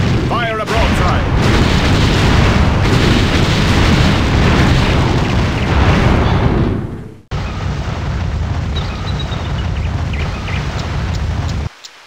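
A ship's cannons fire a broadside in the Anno 1602 video game, building into a loud, continuous rumbling barrage of booms that cuts out briefly partway through, then resumes just as heavily until stopping abruptly.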